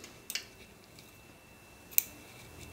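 Scissors snipping yarn while finishing a rectangular crochet rug, two crisp close cuts about a second and a half apart over quiet background.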